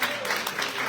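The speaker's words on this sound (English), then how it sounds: "Give a round of applause." A town hall audience claps briefly in a short burst of applause, dense and even, with some voices mixed in.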